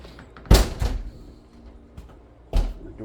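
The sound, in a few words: door being shut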